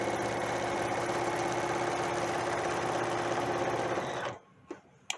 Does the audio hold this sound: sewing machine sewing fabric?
yes